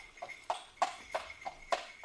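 Horses' hooves clip-clop at a steady walking rhythm as they pull a carriage along a road toward a gated lodge, each hoof strike crisp and fairly close, with no voices.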